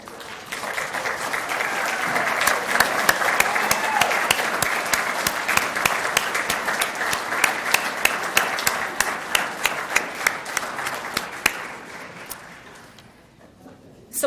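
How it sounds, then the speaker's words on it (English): Applause from an audience at a scholarship luncheon honoring students, a dense, sustained patter of many hands clapping close by, holding steady for most of the stretch before thinning out toward the end. "so we can give you a round of applause"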